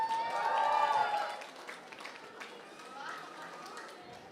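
Audience at a college intercollegiate fest with cosplay competition clapping, a burst of applause that swells then fades into scattered claps and crowd chatter, with a voice calling out over it.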